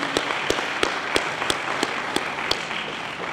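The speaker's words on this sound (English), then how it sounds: "So a round of applause for them." Applause at a school distinguished alumni day ceremony honouring two graduates, with evenly spaced individual claps standing out over a soft, steady wash of audience clapping.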